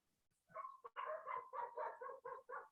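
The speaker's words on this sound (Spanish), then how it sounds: "Sí, hay perro, pero... En último caso puede silenciarlo Diego, porque realmente distrae" A dog barks in a quick series of about eight sharp, evenly spaced barks after a short whimper, fairly close and clear, with no voices over them.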